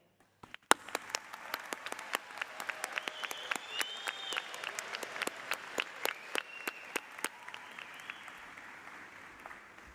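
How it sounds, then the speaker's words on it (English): Graduates and guests at a university undergraduate commencement give a sustained round of applause, with dense clapping that swells and carries on for several seconds in a large hall. "join me in a hearty round of applause to thank your family and friends"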